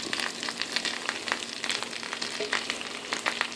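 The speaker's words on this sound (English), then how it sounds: "And we are going to fry those for a little bit." Potato pieces frying in a pan, a dense, continuous close-up sizzle and crackle with frequent small pops, steady and fairly loud with no talking.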